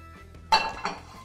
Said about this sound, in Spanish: Vamos a poner la sartén y vamos a prender acá